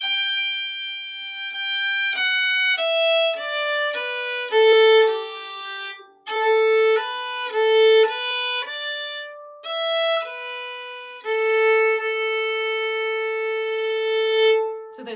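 A fiddle plays two joined phrases of O'Keefe's Slide, an Irish tune, with bright, clear bowed notes stepping through a lilting melody and a brief break partway, played alone and close with no voices.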